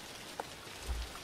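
Rain falling in the horror video game The Caregiver, a steady soft patter with a faint low thud near the end.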